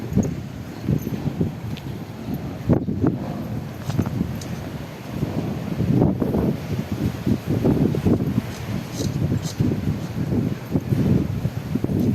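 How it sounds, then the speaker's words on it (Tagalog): Strong afternoon wind in a bitter gourd garden buffets the microphone, with rustling and rumbling bursts rising and falling throughout, no voices. "medyo may kalakasan din ang hangin dito pag bandang hapon"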